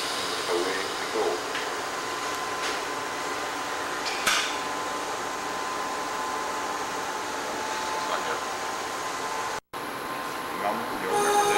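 Ride on an East Berlin subway train in 1990, a steady, muffled rolling rumble and hum with faint clanks, heard continuously at a moderate level with a brief dropout near the end.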